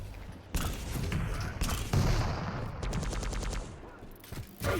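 Rocket launcher fire during a video game tournament match, heard as several loud booming blasts mixed with a rapid rattling burst of weapon fire, all close and dense.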